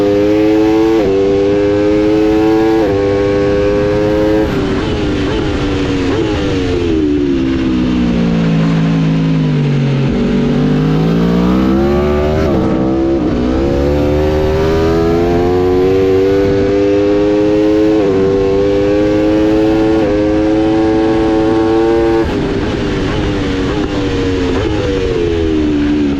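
Racing motorcycle at Hockenheim with its traction control cutting in, a loud, continuous high-pitched engine whine that drops low as the bike slows for a corner, then climbs again under stuttering, choppy revs.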